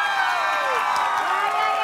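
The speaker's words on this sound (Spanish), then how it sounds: "Y vamos a pedir el aplauso para Carlos." A studio audience cheers and applauds for Carlos in a public vote for the winner: a short burst of crowd noise with whoops and rising shouts over clapping, fairly loud and lively.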